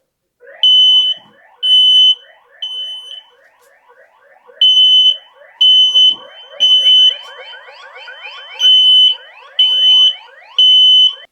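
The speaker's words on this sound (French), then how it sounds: "On a fait un petit test, le détecteur de fumée s'est activé" A smoke alarm sounding during a test shrills in loud, repeated high-pitched beeps, pulsing in bursts with a rapid chirping warble running underneath.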